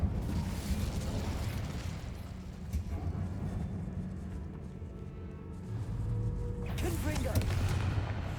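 Incendio fire spell cast in the Hogwarts Legacy game, a rumbling burst of flame with crackling, booming texture that holds steady, then surges again with a brighter whoosh near the end.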